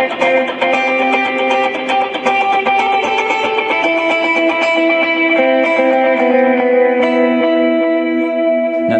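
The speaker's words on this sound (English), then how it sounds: "just a good distortion unit. So to go from nice clean sound" A loud, saturated electric guitar through a distortion pedal, with chords ringing out and sustaining thickly before slowly fading.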